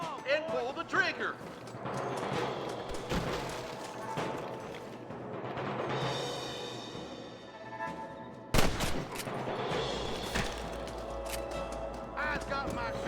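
Gunfire in the Western video game Red Dead Redemption, sharp shots ringing out in bursts and volleys, some loud and close, with game voices talking between the blasts.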